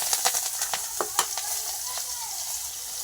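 Onion dropped into very hot oil left from frying fish bursts into a loud, close sizzle with sharp scraping stirs early on, then settles into a steady hiss.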